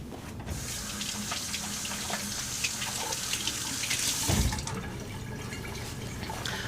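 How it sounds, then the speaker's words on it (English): Water runs steadily from a kitchen tap as hands are washed, a close hissing splash with a brief heavier gush near the end, no voices. "I'm gonna wash my hands."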